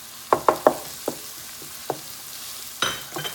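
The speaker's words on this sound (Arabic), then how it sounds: "كيف قلت انا غادي نقلي البصله والفلفله شويه" Onion, pepper and minced kefta frying in olive oil, with a close spoon or spatula striking the pan in a quick cluster of knocks, then a few single clacks, over a soft sizzle, with no talk.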